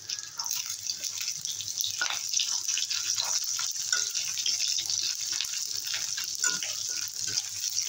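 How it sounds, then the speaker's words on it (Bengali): Fish roe fries in hot oil in a pan, a steady bright sizzle and crackle with scattered pops, sustained and close, with no talking. "তেল গরম হয়ে গেছে, ডিমটা ভেজে নেব।"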